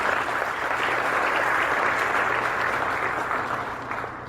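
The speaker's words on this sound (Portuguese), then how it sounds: "Vamos aplaudir ao nome do Senhor Jesus?" Steady applause from a church congregation during a sermon, a dense, even wash of clapping that stays loud throughout and fades slightly near the end.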